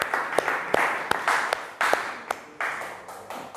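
An audience applauds after a classroom speech, giving a steady wash of clapping. Sharper individual claps stand out in the continuous patter, and the sound stays moderately loud throughout.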